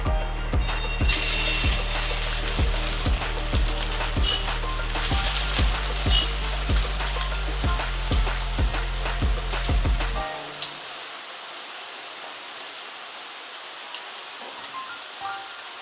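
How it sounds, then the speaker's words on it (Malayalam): Oil sizzles and crackles loudly with sharp pops for about ten seconds, then the frying settles into a softer, steady hiss. "ഈ 4 നമുക്ക് മുറിച്ചെടുത്ത ചെറിയ പീസസും ഇതുപോലെ വറുത്തെടുക്കാം."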